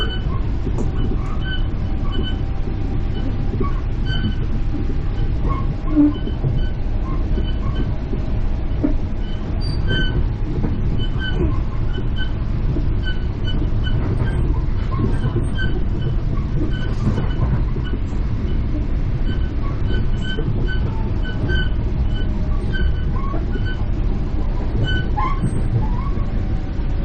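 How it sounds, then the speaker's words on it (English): A Metro-North commuter train running between Marble Hill and Philipse Manor gives a steady, loud rumble with rolling wheel clatter and faint squeaks throughout, heard from on board with no voices. "This is the train to Manor."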